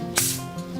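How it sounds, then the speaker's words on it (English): A quick burst of pressurized hiss as a bottle cap releases, then a faint fizzing settles in under a steady low hum. "Open the bottle."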